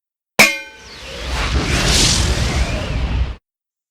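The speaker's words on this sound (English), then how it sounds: "The crashes are coming from his rocket." A run of crashes from a rocket, played as an audiobook sound effect: a sharp bang followed by a sustained roaring, rumbling wash about three seconds long that cuts off abruptly, with no voices.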